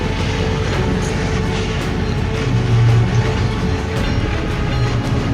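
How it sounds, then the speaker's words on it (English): Trains run along the rails with a loud, continuous rumble and rhythmic clickety-clack from the wheels, heard close by with no voices over it. "It is a once-in-a-lifetime experience to be able to witness a race between modern and an older train."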